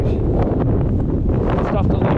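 Strong wind roars steadily against the microphone in a dense, close rush on a Lake District fell walk, with a voice faintly mixed in.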